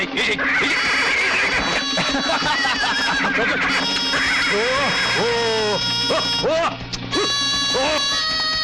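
An unruly horse neighs and whinnies repeatedly in loud, rising-and-falling calls, with a steady musical score and background voices running beneath.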